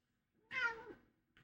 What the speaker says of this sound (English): He's yelling because he's a cat and he don't know no better.